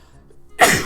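A single loud, close sneeze bursts out after a near-silent pause, sharp and breathy, with no speech around it.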